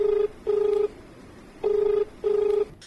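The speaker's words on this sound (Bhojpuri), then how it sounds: "देखें एक फोन भी आए गल।" A telephone rings with an incoming call, sounding four clear, even electronic tone bursts in two pairs, close and fairly loud against a quiet room.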